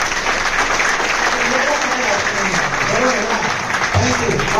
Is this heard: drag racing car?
no